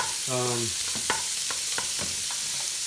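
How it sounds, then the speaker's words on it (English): Food sizzles steadily in a pan as it is fried and stirred, with a constant hiss and several distinct scraping stir strokes, after a short spoken word near the start. "So I'm going to dump this in there and fry it all together."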